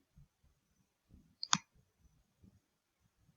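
A computer mouse clicks once, sharp and close, in a quiet room with faint low handling noises around it.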